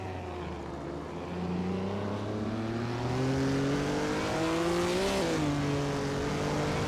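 A 1956 Jaguar D Type race car engine in a racing video game drones steadily as it accelerates, its pitch climbing smoothly, dipping briefly at a gear change and then rising again, loud and continuous throughout.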